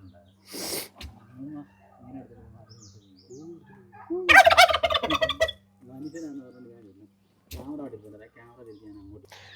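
Turkeys gobble in loud bursts on a small poultry farm in Pathanamthitta, Kerala, one rapid rattling call standing out, mixed with calls of native chickens and a person talking nearby.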